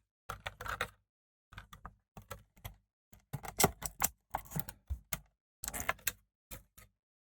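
A DeAgostini 1:6 scale Ford Mustang Shelby GT500 model kit parts pack is torn and handled, giving close, crisp bursts of crinkling plastic and packaging rustle in short irregular clusters separated by brief pauses.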